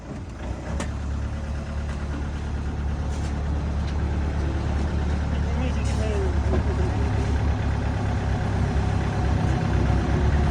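A vehicle engine idles just after starting, giving a low, steady rumble that holds an even level throughout. People talk over it now and then.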